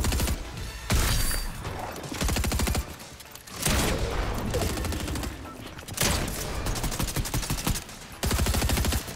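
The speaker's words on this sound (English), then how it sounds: "This guy's holding the charge shotgun down." Charge shotgun blasts and bursts of gunfire in a Fortnite match, loud dense volleys separated by brief gaps, with game sounds layered around them.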